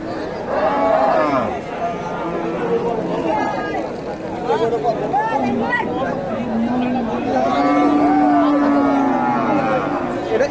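Cows at the Dakumara cattle market in Bogura give low, drawn-out moos, mostly later on, while crowd chatter and nearby voices talk over the steady market bustle.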